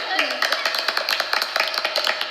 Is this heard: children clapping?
yes